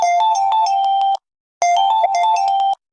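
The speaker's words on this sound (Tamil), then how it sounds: "என் ஃப்ரெண்டு தான் ஃபோன் பண்ணுறான்" A mobile phone ringtone plays loud and close as a melodic electronic phrase, repeated twice with a short silent gap between the bursts, no voices over it.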